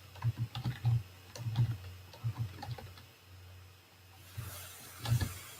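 Fast bursts of clicky keystrokes on a computer keyboard, close and fairly loud, in irregular runs with short pauses and no talking.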